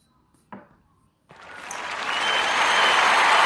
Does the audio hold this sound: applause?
yes